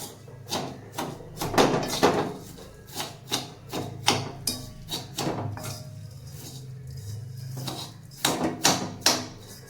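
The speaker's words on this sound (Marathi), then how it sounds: "शेवया भाजलेल्या राहतात पहिल्याच ऑलरेडी, पण आपण पण थोड्या भाजून घ्यायच्या" Vermicelli for shevaya kheer being dry-roasted in a pan, stirred with repeated close scraping and rustling strokes in an irregular rhythm, no talk.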